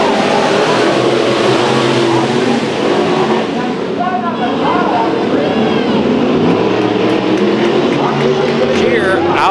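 Sport mod race cars at Chowchilla Speedway roar off together at the green flag of a heat race, a loud, dense engine blare filling the whole stretch, with a voice over the top.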